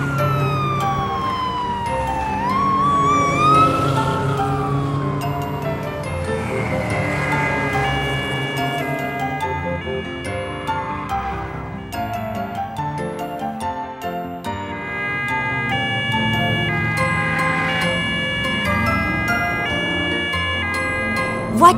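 A police car siren wails and yelps in a looping up-and-down pattern, loud and continuous, layered with bright cartoon music and sound effects for most of the stretch.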